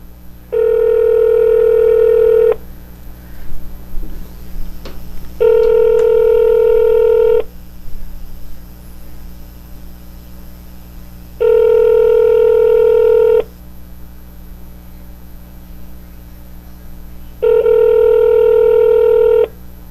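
Outgoing call to an Ohio dispensary: a loud, steady ringback tone repeats four times in two-second pulses with pauses between, over a low background hum and no talking.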